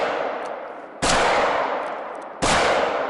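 Pistol shots fired in the hunting video game theHunter: Call of the Wild, two loud sharp reports about 1.4 seconds apart, each trailing into a long echoing tail, with no talk.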